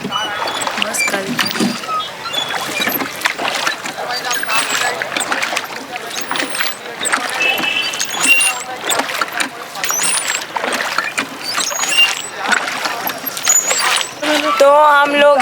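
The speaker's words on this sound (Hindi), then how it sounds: "नैनी लेक में हम बोटिंग कर रहे हैं।" Rowing boat out on Naini Lake, with steady water splashing and oar strokes running through the whole stretch and occasional squeaks, while people talk nearby over it.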